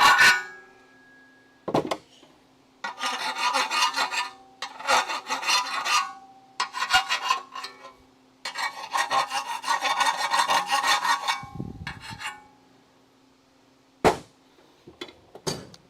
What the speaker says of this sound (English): Now I'm just gonna file the burr out of those.